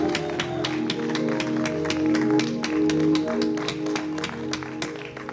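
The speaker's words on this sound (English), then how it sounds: "Please round of applause for Mayor Robert Sullivan as he comes." An evening community gathering at Brockton City Hall claps for Mayor Robert Sullivan in a brisk, steady rhythm of crisp beats, all under music that plays throughout.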